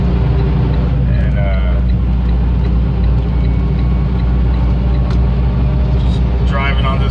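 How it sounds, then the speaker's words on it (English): Steady low engine rumble and road noise from a car cruising along a back-road highway in Victorville, California, continuous and close, with no pauses across the stretch. "just driving on this little back road, this highway"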